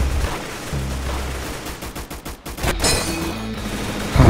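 Rapid gunfire from a Roblox Arsenal shooter game, bursts of shots crackling in quick succession over a few seconds with uneven loudness and no talking.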